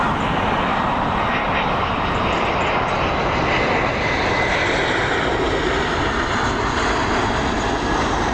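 A Delta airliner takes off at Dublin Airport, its jet engines giving a loud, steady, broadband roar that fills the whole stretch without pause and with no talk over it.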